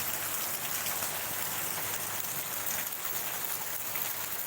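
Steady rain falls on a surface on a wet morning, a dense, even hiss of drops that is close and continuous throughout, with no talk.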